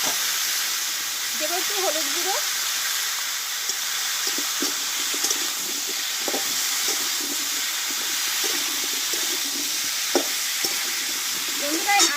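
Raw mango pieces hiss and sizzle in hot oil with panch phoron and bay leaf for a sweet-sour jaggery pickle, a loud, steady frying crackle with faint stirring scrapes and occasional soft voice underneath.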